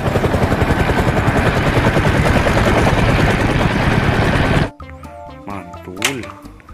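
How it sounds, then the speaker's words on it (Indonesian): A toy helicopter from a collection of toy vehicles makes a loud, fast, rhythmic whirring chop close by for several seconds, then cuts off abruptly, leaving quieter toy tones. "Ada helikopter lagi teman-teman."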